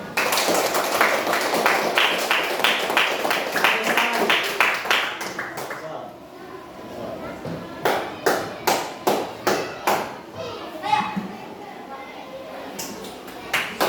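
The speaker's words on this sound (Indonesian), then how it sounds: "Oke, tepuk tangan." Fifth-grade children in a primary school classroom clap together, first a fast continuous patter, then after a brief lull a series of crisp, evenly spaced group claps, with some voices mixed in.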